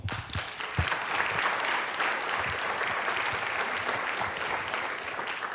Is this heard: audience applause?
yes